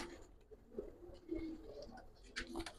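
Giribaz pigeons coo softly in a series of low, rounded calls, quiet and fairly close, with a faint voice briefly in the background.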